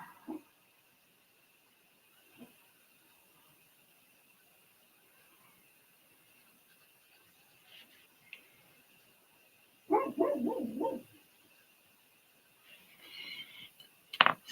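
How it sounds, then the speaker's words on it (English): Dogs bark outside a house: a faint yip early, then a loud burst of several rapid barks, more barking a few seconds later and one last sharp bark, with quiet stretches in between. "Psycho puppies outside"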